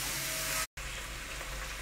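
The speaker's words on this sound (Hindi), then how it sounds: "अब हम इसमें गोश्त डाल रहे हैं, गोश्त को भी डाल रहे हैं। अब हम गोश्त को भून रहे हैं।" Meat frying with reddened onions in oil in a pot, a steady close hiss with one brief dropout partway through.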